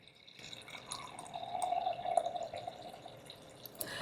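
Water running from a tap into a microwave-safe bowl, a soft steady filling stream building for a couple of seconds, quiet and close.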